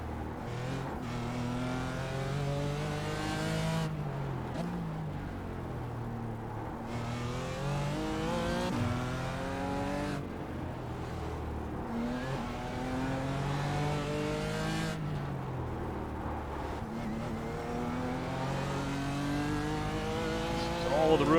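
A GT4 race car circles the Long Beach street circuit in iRacing, its engine revving up through the gears in repeated rising sweeps with sharp drops at each shift and braking, while someone talks over it.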